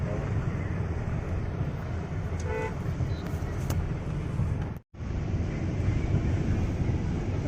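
Cars, trucks and taxis roll across a flooded, waterlogged bridge in Bengaluru after heavy rain, a continuous loud roar of tyres through water with a brief horn toot partway through.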